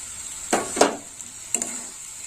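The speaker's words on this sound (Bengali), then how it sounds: "টমেটো দেওয়ার পরেও একটু কষে নেব ভালো করে নাড়িয়ে চালিয়ে নেব" Chopped tomatoes sizzle in spiced masala in a pan for a Bengali fish curry. A steady soft hiss runs under three or four scraping stirs of a spoon, close up, with no voices.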